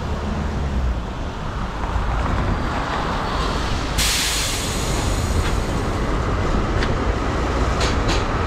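A tram rolls along a city street in Belgrade, a loud steady rumble of wheels and traffic with a brighter hiss of rail and brake noise building partway through, close by and continuous.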